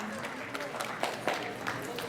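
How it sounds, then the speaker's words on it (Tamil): An audience at a Bharatanatyam dance performance applauds the students, giving steady clapping with a few louder claps under a voice speaking Tamil over it. "மாணவ செல்வங்களுக்கு உங்களுடைய கரகோஷங்களை கொடுத்து விடுங்கள்"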